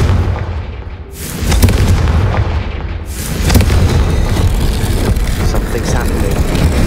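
Confringo fire-blast explosions in Hogwarts Legacy, two heavy booms around one and three seconds that crash in over a continuous low rumble, with spoken game voices mixed in.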